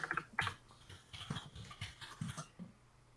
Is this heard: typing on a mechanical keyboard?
yes